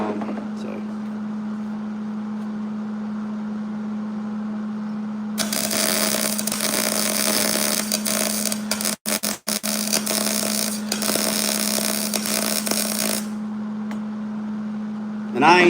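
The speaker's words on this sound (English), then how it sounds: "And I ain't even gonna weld it solid" An electric welding arc crackles and sizzles loudly for several seconds while welding washers onto a Cub Cadet lawnmower deck, briefly cutting out, over a constant low hum.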